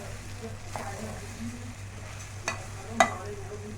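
Rice is stir-fried with other ingredients in a pot, giving a low continuous sizzle with occasional scraping strokes and a sharp clank of a spoon against the pot near the end.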